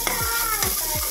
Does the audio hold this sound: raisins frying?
yes